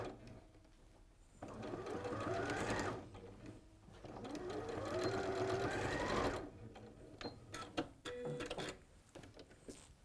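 A sewing machine stitches a cushion in two sustained runs of fast, rhythmic whirring, with quieter pauses and light handling clicks between them.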